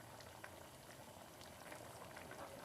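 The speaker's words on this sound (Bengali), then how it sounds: "তো এটা হোক, একটু ফুটুক" Chicken curry (chicken kosha) simmers in a pan on a gas stove, giving a soft, steady bubbling and popping that stays faint and even throughout.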